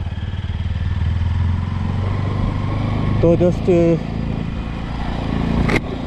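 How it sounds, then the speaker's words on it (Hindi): Bajaj Pulsar 200NS motorcycle engine running steadily while riding a mountain road on a Kalpa–Spiti trip, a loud continuous low drone with wind rush, and a brief voice speaking midway. "स्टार्ट हो गई बाइक और चल रहे हैं अभी सुसाइड पॉइंट की तरफ"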